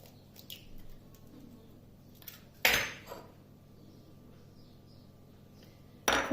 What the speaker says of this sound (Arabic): ثم غادي نضيف البيضه الثانيه،